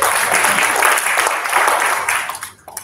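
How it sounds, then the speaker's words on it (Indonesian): Full, loud applause from a congregation at a Christmas worship service in Semarang, holding steady before tapering off and dying out near the end. "Setuju, beri tepuk tangan buat kita."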